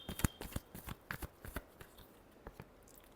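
Tarot cards are shuffled in a quick run of soft, papery riffles and flicks, close but quiet, the taps thinning out toward the end with no voice over them.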